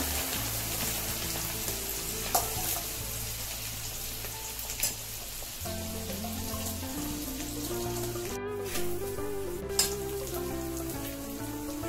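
Chilies and bamboo shoot fry in very hot oil, a steady crackling sizzle like rain that runs throughout, with a few sharp pops and stirring sounds, close and moderately loud, with no talking.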